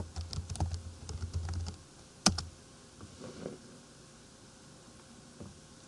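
A search term is typed on a computer keyboard in quick, close, fairly faint bursts of key clicks, followed by a sharper single keystroke and a few scattered taps.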